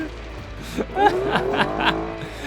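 Car revving hard at full throttle in the driving simulator BeamNG, a rally-style run with a rising, strained engine note and brief tire squeal, close and loud with no talk over it.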